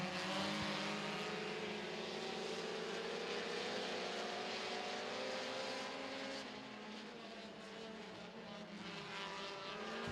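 Race cars circle an oval track at Baer Field Motorsports Park during a night race, a loud continuous engine roar from a pack of cars that rises and falls slightly as they run laps, with no voices.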